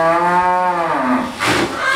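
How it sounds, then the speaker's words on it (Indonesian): A Pegon cow moos on a livestock farm, one long, loud, close bellow that rises and fades, followed by a short rough grunt. "Ternyata sapi pegon di sini guys."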